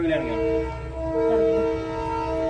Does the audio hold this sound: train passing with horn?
yes